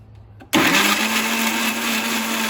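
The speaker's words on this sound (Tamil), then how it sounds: "இப்போ நம்ம வந்து மிக்சியில் போட்டு அரைக்க போகிறோம்." A mixer grinder grinding tomato chutney starts abruptly and keeps whirring at a loud, steady high pitch.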